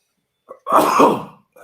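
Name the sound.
sneeze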